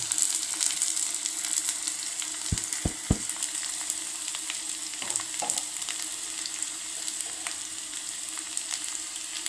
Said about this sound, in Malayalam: ഉള്ളി നന്നായിട്ട് മൊരിയട്ടെ കേട്ടോ മക്കളെ